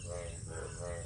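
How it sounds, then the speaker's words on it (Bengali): Frogs calling from low, rain-soaked village fields during the monsoon season, a dense, continuous chorus of croaks and trills filling the background at steady volume. "তোমরা পিছনে ব্যাঙের ডাক নিশ্চয়ই শুনতে পারছো।"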